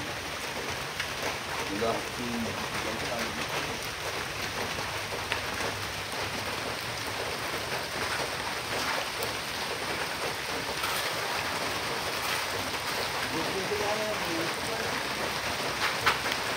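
Steady rain falls on surfaces outdoors as a continuous soft hiss with scattered drop patter throughout, and faint voices occasionally talk beneath it.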